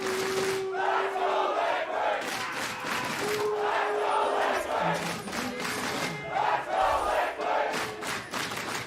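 The Team Liquid cheer squad and crowd at an LCS esports match shout a rhythmic battle cry, with loud, repeated chanted bursts and sustained crowd roar throughout.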